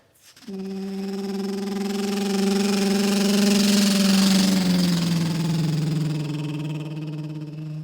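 A voice imitates a helicopter with a steady buzzing, fluttering drone that holds for several seconds, then dips in pitch and fades.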